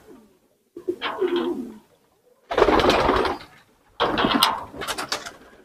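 Pigeons coo in three loud, close bursts of throaty, rolling calls separated by short silences.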